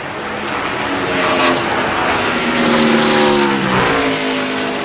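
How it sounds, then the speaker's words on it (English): NASCAR stock cars roar down the back straightaway at the 2000 Pennsylvania 500, loud engine noise swelling and fading as the pack passes, with pitch shifts as cars go by. "he's right on the back bumper of Rusty Wallace as they head down the back straightaway"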